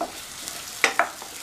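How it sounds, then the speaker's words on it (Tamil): Soaked tamarind extract is poured into vegetables frying in a pan for sambar, giving a steady sizzle with a couple of sharp splashing bursts and stirring scrapes. "ஒரு சின்ன நெல்லிக்காய் சைஸ் அளவு புளியை வந்து ஊற வச்சு கரைச்சி வச்சுருக்கேன், அதை சேர்த்துடலாம்."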